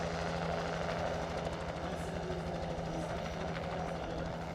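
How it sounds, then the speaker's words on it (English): A helicopter carrying a bride flies low outside a wedding tent in Kenya, its rotor and engine making a steady loud drone that fills the whole stretch, with faint voices underneath. "the bride's chopper can be heard flying low"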